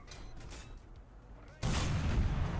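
Artillery fire in the War Thunder tank game: steady low battle noise, then a sudden loud blast that becomes a heavy, sustained roar of shelling close by.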